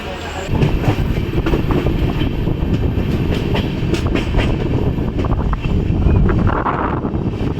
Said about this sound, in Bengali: সকাল 6টা বেজে 50 মিনিটে 22387 ব্ল্যাক ডায়মন্ড এক্সপ্রেসে চড়ে আমরা রওনা দিলাম আমাদের গন্তব্যের উদ্দেশ্যে